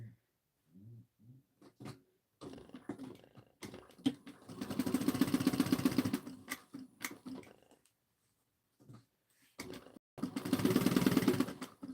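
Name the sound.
sewing machine stitching a fabric pouch seam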